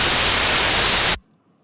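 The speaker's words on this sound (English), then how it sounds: "That's me making the white noise. That's me adding the tape effect." Loud, harsh white-noise static with a tape effect hisses evenly for just over a second, then cuts off abruptly into near silence.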